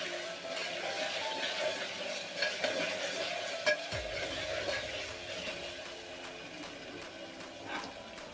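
Ginger garlic paste and chopped green chillies fry in a pan with a soft, continuous sizzle, and faint stirring clinks drift in and out at low volume.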